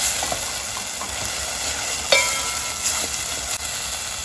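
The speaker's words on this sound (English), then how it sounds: "Now add in your green masala and fry it." Green masala fries with soft onions in a pan, making a steady, close sizzle with occasional faint stirring scrapes throughout.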